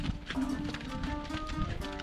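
Horses climbing a steep, narrow, winding rocky mountain trail in Kyrgyzstan, hooves clip-clopping in an uneven close rhythm on stone, with faint other noise underneath.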